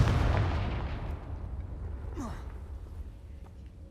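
Confringo fire spell cast in Hogwarts Legacy, a heavy blast that booms up front and then rumbles away over a few seconds, with a short whooshing streak partway through.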